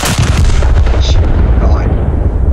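A warship's big guns fire in a naval video game, a heavy, booming blast at the start that rolls into a long, loud rumbling decay.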